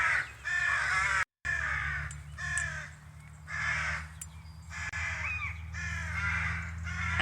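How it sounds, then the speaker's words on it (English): Crows caw repeatedly near an RAF base in the Norfolk Broads, a series of harsh calls spaced about a second apart over a steady low engine drone, fairly close and clear. "Crows."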